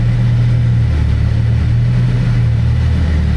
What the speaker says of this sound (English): The engine is revving kind of loud